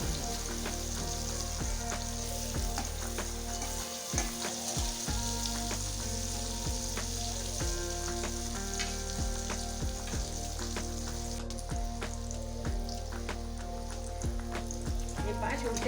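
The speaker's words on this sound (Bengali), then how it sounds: "আমি একটু লাল করে ভেজে নেবো আস্তে আস্তে নাড়াচাড়া করে" Dhoka lentil cakes fry in hot oil with a dense, rain-like crackle that lasts throughout. Occasional soft turning and stirring sounds rise above the steady bubbling.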